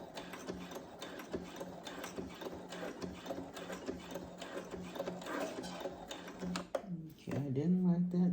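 A domestic sewing machine stitching bias tape onto dress arms, running in a steady mechanical rattle, then changing to a louder, odd-sounding whir near the end; a voice is heard alongside it.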